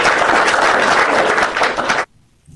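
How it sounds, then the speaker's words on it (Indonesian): An audience gives a guest a loud burst of clapping that holds steady for about two seconds, then cuts off abruptly into near silence. "Tepuk tangan buat Rosa yang cantik dan manis"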